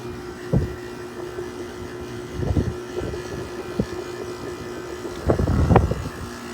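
A Haier 5,200 BTU air conditioner compressor running with a steady low hum and a sustained tone, broken by several louder rattling surges and thumps at irregular intervals.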